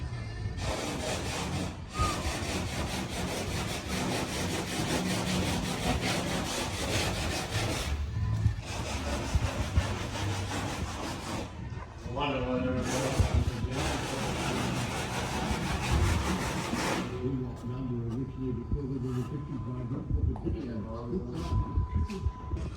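Long stretches of harsh, rhythmic sanding on wooden cowl parts for a Sling high-wing aircraft build, close up, with brief pauses between strokes and some talking near the end.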